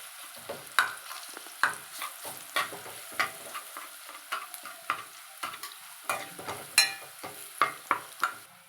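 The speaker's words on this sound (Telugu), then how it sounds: "ఇందులో ముందుగా పట్టి పెట్టుకున్న ఎల్లిపాయ కారం ముద్దను వేసి బాగా కలుపుకోవాలి" A spoon scrapes and stirs garlic chili paste frying in a pan, a run of regular sharp scraping strokes over a faint sizzle, close up with no voices.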